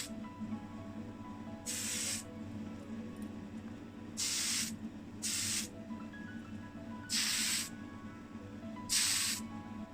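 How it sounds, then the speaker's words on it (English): Tamiya Fine Surface Primer in white sprayed from a can onto a model Wolseley Six Eighty police car casting, five short hissing bursts of about half a second each at fairly even intervals, close and clear over a quiet background. "I'll be using Tamiya Fine Surface Primer in white"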